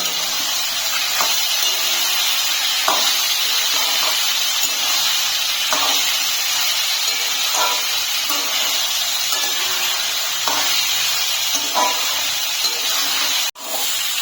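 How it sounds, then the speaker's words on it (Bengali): Moong dal frying with papaya in a pan, a loud, constant hissing sizzle close up with faint periodic stirring scrapes, cut off sharply near the end. "মুগ ডালটাও পেঁপের সঙ্গে ভেজে নেব।"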